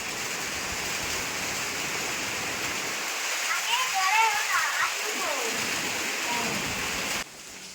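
Heavy rain pours down in a steady, loud wash of noise, with a voice rising briefly partway through before the downpour cuts off abruptly near the end.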